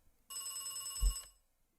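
A telephone in the video game Beacon Pines rings with a bright electronic trill, one sustained ring then silence before the next ring begins, clear and close with no talk.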